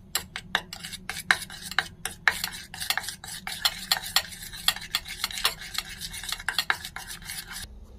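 A spoon stirs a homemade cleaner of soda and liquid soap in a container, making quick, rhythmic clinks and scrapes that repeat steadily and close up, with nothing else heard.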